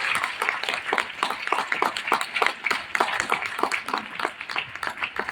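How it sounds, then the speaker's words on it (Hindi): An audience claps at an award event, a dense burst of rapid, close applause that goes on steadily throughout with no pause, with faint speech underneath. "तो ताली तो बनती है।"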